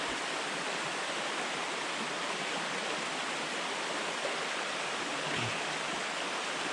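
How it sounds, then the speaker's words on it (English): Waterfall on the Foothills Trail in South Carolina or North Carolina, heard as a steady, even roar of falling water that stays constant and fairly soft throughout, with no voices. "And you got a waterfall."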